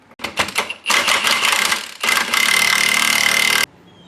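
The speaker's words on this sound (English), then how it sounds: "We're just going to tighten it down." A power tool tightens bolts on a torque arm during a 4L80E transmission install in a third-generation Camaro, with a few short rattling bursts followed by longer sustained loud ratcheting runs that stop abruptly, close up and without talk.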